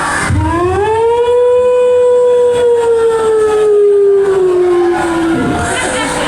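A voice imitates an ambulance siren on the road, a single long wail that rises quickly, holds loud and steady for several seconds, then slowly sinks before cutting off, with crowd murmur faintly underneath.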